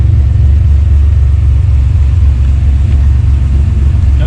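A 1993 GMC Typhoon engine idles in a loud, steady, close low rumble with an even pulse and no talk.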